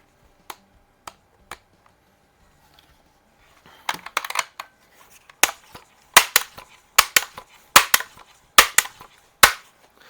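A Barra model 900 pump action pellet rifle fires while plinking, giving sharp, dry cracks spaced across the clip, with pumping clatter and metallic clicks between shots at close range.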